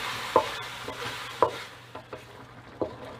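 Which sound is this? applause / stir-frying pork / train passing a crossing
stir-frying pork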